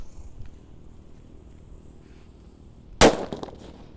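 A red Happy Flower firecracker set off for Ramadan gives one sharp, loud crack after a quiet stretch of faint background noise.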